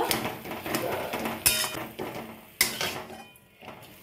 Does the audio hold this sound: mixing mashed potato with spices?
yes